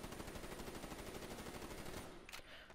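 Full-auto HVK30 in Black Ops 3 fired at close range: a loud, dense, unbroken stream of rapid shots that runs for over two seconds, then cuts off and leaves a brief fading tail.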